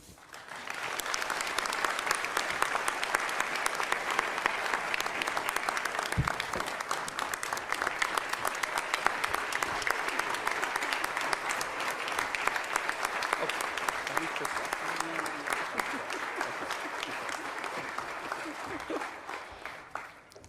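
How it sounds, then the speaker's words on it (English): A large audience at a community college presidential investiture gives Dr. Namuo a long round of applause, dense, even clapping that holds strong for about twenty seconds before tapering off at the end. "please join me in giving Dr. Namuo once again a round of applause"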